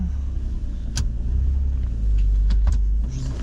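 A passenger car rumbles at low engine revs as it is driven on a cold day, with a steady deep hum and a few faint clicks and creaks inside the cabin.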